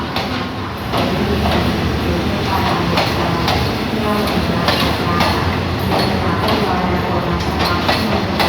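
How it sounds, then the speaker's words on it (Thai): Morning at Bangkok railway station with an ordinary passenger train, hauled by a large GEA diesel locomotive, rumbling steadily nearby, with rhythmic clicks of wheels over rail joints under continuous mechanical noise, while people talk faintly in the background. "บรรยากาศยามเช้าๆที่สถานีกรุงเทพนะครับผม"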